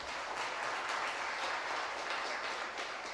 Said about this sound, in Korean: 우리 박수로 한번 목사님 환영하겠습니다